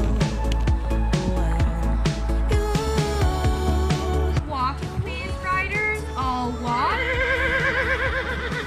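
A horse neighs loudly nearby, a long wavering whinny rising and falling across several seconds, with other background noise around it.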